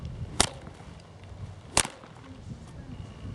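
A whip cracks twice near a horse, two sharp, loud snaps about a second and a half apart over quiet outdoor background, no talking.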